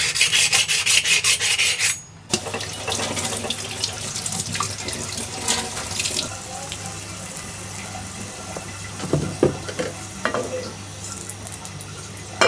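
Jackfruit seeds being chopped on a boti blade in a home kitchen, a steady scraping, rasping cut with a watery undertone, close and continuous after a brief pause near the start.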